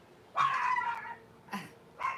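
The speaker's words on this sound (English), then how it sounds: "There's a puppy dog" A puppy gives two short bursts of high-pitched yipping barks with a whiny edge, fairly close indoors and separated by a brief pause, with no talking.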